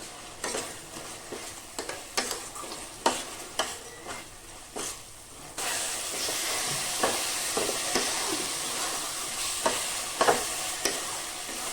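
Peeled, soaked raw peanuts with cashews and raisins frying in spice paste for a vegetarian potato dum, with repeated scraping stir strokes, then a louder steady sizzle and further stirring close by.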